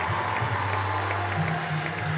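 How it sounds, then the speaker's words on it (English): A high school boys' basketball crowd cheering and applauding a MAC championship win, a steady wash of clapping and voices throughout with a commentator talking over it. "So the crowd thoroughly enjoying tonight's festivities as the Cardinals bring home a MAC championship."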